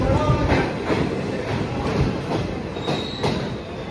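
A train rumbles and clatters as it pulls away from Tiptur railway station, with wheels squealing on the rails and a steady rolling roar.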